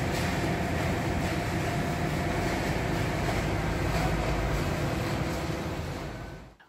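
A waste-sorting conveyor and plastic crusher at a Jakarta waste facility give a continuous, dense mechanical rumble and hum that fades near the end.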